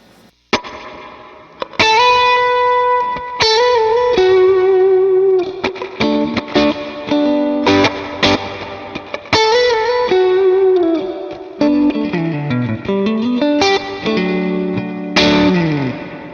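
An electric guitar plays chords and single-note lines through a spring reverb pedal, drenched in heavy reverb with a splashy, echoing tail and some grit, loud and close throughout.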